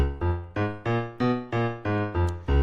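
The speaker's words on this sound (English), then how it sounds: "I'm not sure if you ever heard of Boogie Woogie, but it kind of went like this." A piano plays a rolling boogie woogie pattern, steady repeated chords pounding out a driving rhythm, loud and close with no talking.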